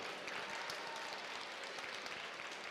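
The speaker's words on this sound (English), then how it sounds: "A huge round of applause for all the organizers." Applause from the audience at the Bitcamp 2024 campus hackathon opening ceremony, a steady, dense wash of many hands clapping at once, moderately distant and sustained without a break for nearly three seconds.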